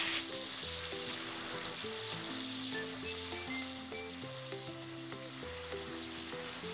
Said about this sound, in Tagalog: It's time na mag-ihaw.